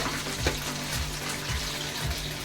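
Pieces of fried chicken 65 are lifted out of hot oil as the oil bubbles and sizzles steadily, with a soft, repeated scrape of a ladle against the pan.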